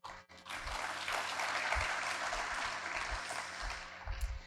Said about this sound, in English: thank you for giving him a round of applause